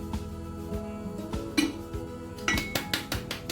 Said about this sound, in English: I take a bowl and decant everything that's there in the jar